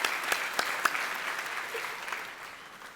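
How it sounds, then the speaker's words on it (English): Applause for honors graduates at a commencement ceremony, a steady wash of clapping from a large audience with a few sharper claps standing out at the start, fading slightly toward the end. "Let's give them a round of applause"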